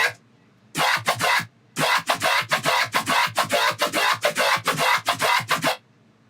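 A dubstep phase FM bass patch built in the Serum synth, heavily compressed with OTT and saturated, plays alone as gritty, choppy rhythmic bursts: a short stab, a gap, then a long run of pulsing hits.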